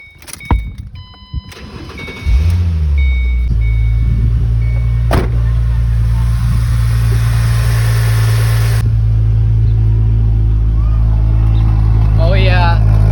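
A 2007 Ford Mustang V6 fitted with a throttle body spacer cranks briefly and fires up, then settles into a loud, steady low idle, with a few clicks and bumps before the start and faint voices near the end.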